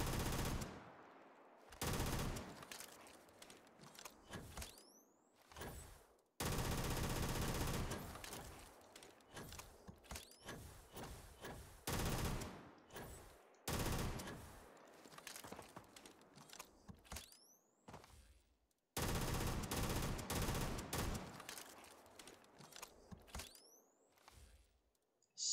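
A Call of Duty gun mod fired in Starfield, loud full-auto bursts in repeated long strings separated by brief silences, each burst clattering with mechanical rattles and ringing tails, close and alone without talk.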